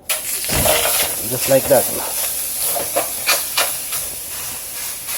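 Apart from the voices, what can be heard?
salt and garlic dumped into a hot skillet, sizzling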